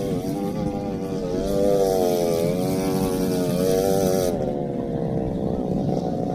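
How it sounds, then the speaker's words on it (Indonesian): A small four-wheeled ATV quad bike engine drones steadily nearby at Dahban beach in Jeddah, its pitch wavering slightly as it revs, with no talking. "Banyak banget yang pakai motor roda 4 ini ya."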